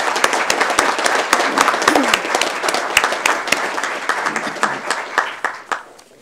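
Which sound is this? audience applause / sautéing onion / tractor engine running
audience applause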